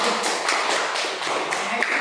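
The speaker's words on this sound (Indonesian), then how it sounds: "Tepuk tangan untuk Adi" Classroom students clap for a classmate in a lesson, quick dense hand claps with distinct taps, close and steady for a couple of seconds.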